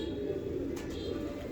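Pigeons kept by a pigeon fancier coo softly and continuously in a steady low murmur, fairly close, with no talk over it.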